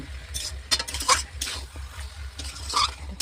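Duck meat stir-fried in spice paste and oil in a pan, with scraping spatula strokes and clinks against the metal every half second or so over a low steady sizzle, close and moderately loud.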